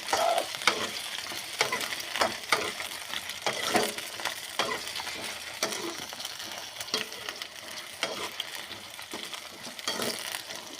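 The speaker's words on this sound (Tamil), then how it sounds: "அப்படியே எண்ணெய்க்குள்ளே வேகட்டும்ப்பா" Eggplant pieces fry in hot oil for a Tamil-style brinjal poriyal, giving a constant crackling sizzle broken by repeated scraping stirs, close and fairly loud with no speech.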